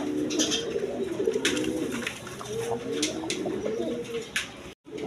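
Chocolate-coloured Mokki pigeons coo steadily and close by, their overlapping, rolling calls continuing without pause and with faint clicks and rustles behind them.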